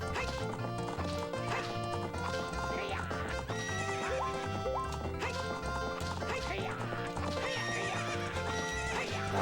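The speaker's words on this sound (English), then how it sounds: "I just wanted a free horse." Horse galloping and neighing in Ocarina of Time, rhythmic hoofbeat clip-clops with whinnies over a layered game music score, steady and fairly loud throughout.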